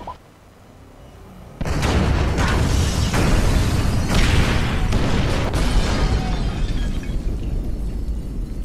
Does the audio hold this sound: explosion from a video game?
yes